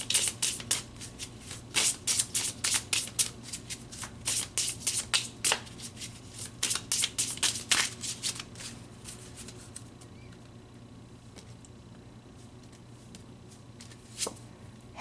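Tarot cards shuffled by hand in a quick run of crisp riffling bursts for about eight seconds, then a few sparse taps and flicks while a card is pulled, close and alone with no talk.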